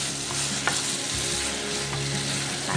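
Beef roast with curry leaves and coconut oil sizzles loudly in a pan while being stirred, a dense continuous frying hiss broken by scraping strokes, with no talk.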